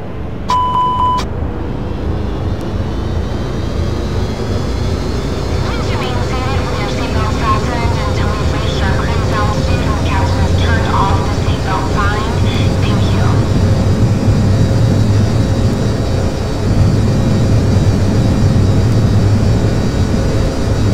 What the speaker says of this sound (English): 319er, clear for takeoff, runway 7 left, departure to the north approved